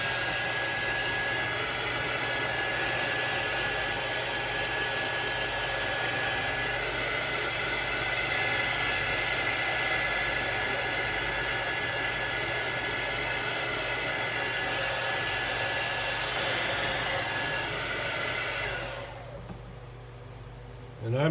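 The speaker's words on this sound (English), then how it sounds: "I'm just using a old hair dryer, blow dryer of my wife's." An old hair dryer blowing to heat set paint, a steady loud whooshing hiss held for about nineteen seconds before it cuts off.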